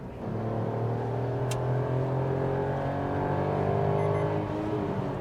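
A Maruti Suzuki Celerio's 998 cc K10C three-cylinder engine pulls steadily under acceleration, a continuous droning hum whose tone climbs gradually toward the red line, heard from inside the car without talking.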